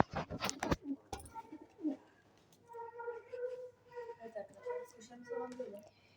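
Pigeons in a backyard coop coo in soft repeated low phrases through the latter half, following a burst of noise and a voice near the start.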